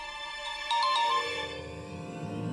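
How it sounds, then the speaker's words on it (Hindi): A mobile phone ringtone plays for an incoming call, a bright repeating electronic melody that sounds steadily for a couple of seconds at moderate loudness in a quiet indoor scene from a Hindi TV drama. "ये मेरी मदर इन लॉ का फोन है, मुझे लेना पड़ेगा।"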